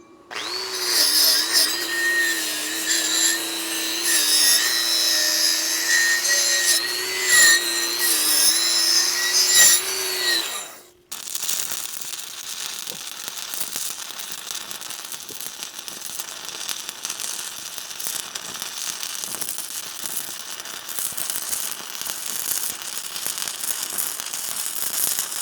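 Welding a 2-inch washer onto the top of a pin for a John Deere 450B dozer blade. A loud, steady buzzing run cuts off sharply about halfway through and gives way to a continuous hissing, crackling noise.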